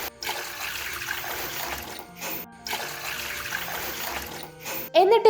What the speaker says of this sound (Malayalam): അതിലേക്ക് 2 കപ്പ് വെള്ളം ഒഴിച്ചു കൊടുക്കാം.